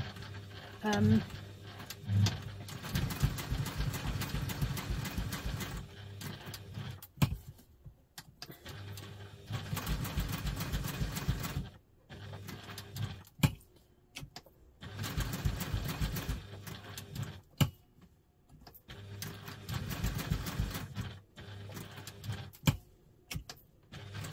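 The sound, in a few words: sewing machine stitching a bag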